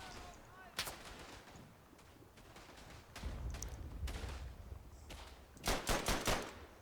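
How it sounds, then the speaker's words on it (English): Machine gun suppressive fire in the World War I shooter Verdun, a string of sharp reports and bursts with heavier rumbling gunfire building in the second half, loud and close, with no talk. "Suppressive fire"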